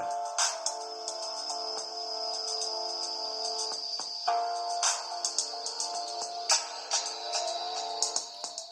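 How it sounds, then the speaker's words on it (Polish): Music plays from the small built-in speaker of a Bakeey JD01 smartwatch turned up to full volume, a thin, tinny tune with a steady melody and light percussive clicks running throughout. "Zegarek ma głośnik, i możemy sobie słuchać teraz muzyki niezależnie od y, telefonu."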